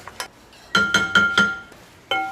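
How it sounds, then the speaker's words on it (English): Whisk striking the side of a glass bowl while eggs are beaten, a quick series of bright ringing clinks, close and fairly loud, with a brief pause before a final knock and no talking. "Whisk the eggs. Get them all nice and broken up."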